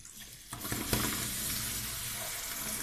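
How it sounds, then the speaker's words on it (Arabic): Water poured from a glass into a pot of sugar to make a homemade honey-style syrup, starting as a short splash and settling into a steady, close rushing pour that lasts to the end. "نكمل نزيد الكاس نفس الكيله تاع الماء"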